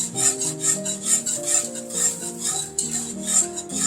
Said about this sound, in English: so I'm going to slowly whisk in my grits